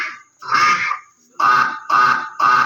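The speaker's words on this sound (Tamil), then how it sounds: "என்ன, எலியை அடிச்சா வாத்து சத்தம் கேக்குது?" A duck quacks in a garden, giving several loud nasal calls close by, the first two spaced apart and the last three in a quick even run.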